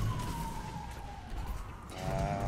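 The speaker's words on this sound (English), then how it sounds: "Sadly, it's not a cop, it's an ambulance." Ambulance siren passing at a distance, a steady wailing tone sliding slowly downward and then shifting pitch, faint behind road and ambient noise.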